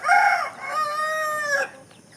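A chicken gives one loud, drawn-out call that rises and then holds steady before stopping abruptly, close by with nothing else around it.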